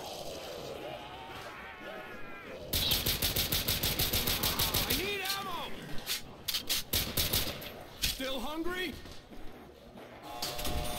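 Rapid automatic gunfire in the Call of Duty zombies map Kino der Toten on PC, loud dense bursts of shots broken by short pauses, with game sound effects and someone talking over it.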